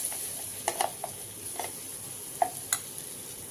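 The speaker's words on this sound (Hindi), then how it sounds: "तो इसको हम चलाते हुए इस तरीके से भून लेते हैं दाल को।" Ground chana dal is stirred and fried in a pan with asafoetida, giving soft scraping and clinking strokes of a spoon over a faint, low sizzle, quiet and close.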